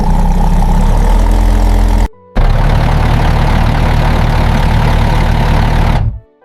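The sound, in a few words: tank engine running, Leopard 2 MTU diesel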